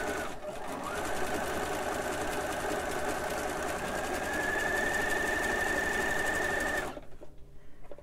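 A sewing machine zigzag-stitches over a robe seam, running steadily at high speed for about seven seconds with a whirring hum, then stopping abruptly, close by and loud.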